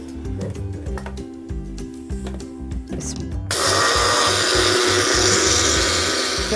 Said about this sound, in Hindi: सबसे पहले हम इसको ग्राइंड करेंगे।